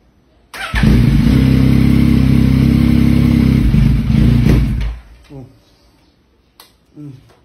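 A Yamaha MT-09 motorcycle engine runs loudly for a few seconds, then stalls and cuts out abruptly. A couple of faint brief sounds follow in the near silence.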